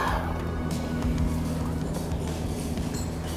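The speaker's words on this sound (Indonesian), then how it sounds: "Tuh suara mesinnya halus aja begitu. Masih 6 silinder." Smooth-running six-cylinder engine of an old low-slung Mercedes-Benz sedan, a steady even hum heard up close with no pauses and faint background noise.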